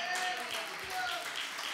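A church congregation claps in applause, a short burst of many hands, brief and moderately faint.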